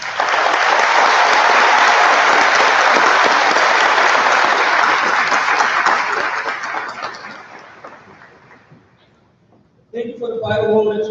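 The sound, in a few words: audience applause at graduation ceremony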